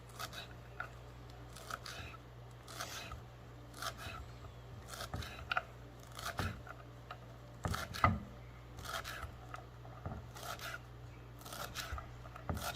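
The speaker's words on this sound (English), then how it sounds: "Just going to bundle this up and start chopping away." Knife chopping a bundle of fresh cilantro on a board for swai fish ceviche, a steady run of crisp, fairly close cuts spaced through the whole stretch, with low background hum and no talk.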